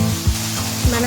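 Sauce poured into a pan of frying vegetable noodles hisses in a steady close sizzle, with two brief louder bursts as it hits the hot pan.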